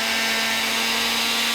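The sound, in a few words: blender blending roasted tomatoes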